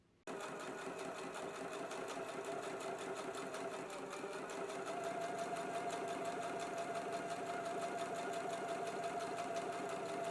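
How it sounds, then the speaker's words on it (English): A sewing machine starts up and runs steadily for several seconds sewing basting stitches, a fast, even mechanical whir with a rapid needle rhythm, close and unbroken. "let's go to the sewing machine now and do some basting stitches"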